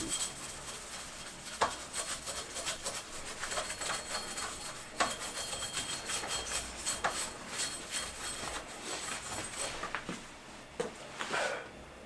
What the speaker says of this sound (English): I took a Scotch-Brite pad to the fork to give it a matte finish to match the frame.